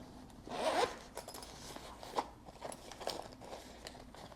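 A zipper pulled open in a couple of quick rasping strokes, close by, followed by faint rustling of the pouch.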